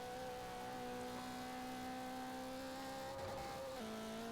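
A Toyota Celica engine in the video game Forza Horizon 4 hums at a steady, fairly quiet pitch, then its tone drops abruptly near the end as if shifting gear.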